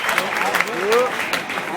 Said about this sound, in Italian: Applauso